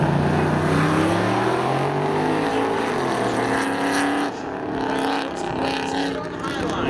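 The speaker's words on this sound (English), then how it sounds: "Chevy Camaro, 1989 versus a Pontiac" A 1989 Chevy Camaro and a Pontiac drag race at Seekonk Speedway, their engines roaring loud and close with rising and falling pitch as they accelerate, under an announcer's crowd-level commentary.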